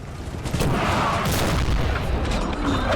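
Napoleonic artillery cannon fire in Napoleon Total War during a 4v4 battle, a sustained rumbling roar of booms and battlefield noise, loud and continuous throughout.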